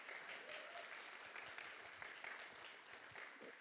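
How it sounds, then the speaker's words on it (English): Steady applause fills a conference auditorium at PyCon Greece, a warm round of clapping from the audience for a speaker, dense and continuous throughout with no talking over it. "Warm round of applause."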